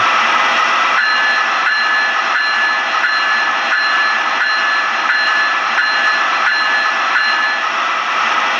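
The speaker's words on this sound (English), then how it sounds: "And here's the bell." An MTH Amtrak AEM-7 model locomotive bell rings steadily, striking about twice a second over a constant loud electronic hum.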